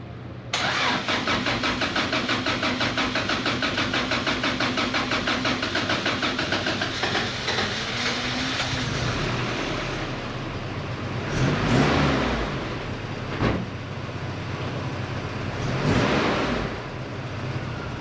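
A Toyota Hilux engine starts and settles into a steady, close idle, with a few brief revs rising above the even hum.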